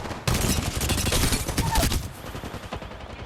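Rapid, loud gunfire from an Apex Legends match, a dense fusillade of close automatic shots rattling continuously, then easing into lighter scattered fire toward the end.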